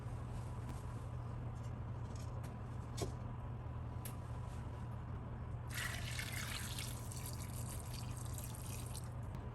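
Water is poured into a pot of braised beef short ribs (Korean galbijjim). A steady splashing rush starts about two-thirds through over a constant low kitchen hum, preceded by a few faint drips.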